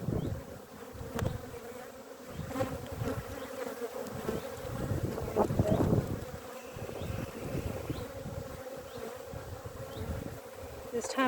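Honeybees at an open beehive during a hive inspection, a low, steady buzzing close by with faint handling knocks and rustles.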